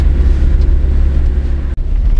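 Engine of a 1999 Renault Trafic van rumbling steadily while driving, a loud continuous low drone from inside the cab with a brief dip near the end.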